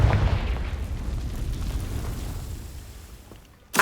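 A Confringo spell explodes in the Hogwarts Legacy video game with a booming blast that fades out over a few seconds, followed by a sharp short burst at the end.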